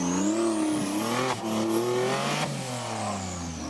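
A 4x4 off-road car at the Hankook 4x4 Extreme Challenge Steineck 2018 revs hard as it climbs a steep exit, a loud, close engine whose pitch rises steadily, briefly dips, then climbs again.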